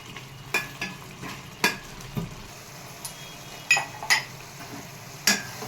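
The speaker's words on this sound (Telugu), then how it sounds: "మూత అవేం పెట్టకుండా ఇలా కలుపుతూనే ఉండాలి." Bottle gourd halwa stirred in an open pan on the stove, a spoon scraping and tapping the pan in an irregular rhythm over a soft sizzle, close and with no talking.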